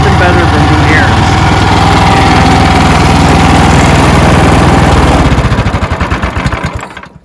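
An Ariens Deluxe 28 snow blower with a super high output engine runs loud and steady close by, its throbbing drone holding constant before tapering and sputtering down as it shuts off.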